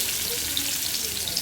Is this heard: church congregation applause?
no